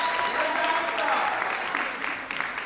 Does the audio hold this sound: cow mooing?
no